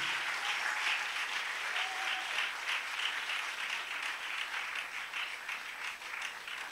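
A church congregation applauds continuously, a dense steady wash of many hands clapping at moderate distance that holds throughout with a slight fade near the end.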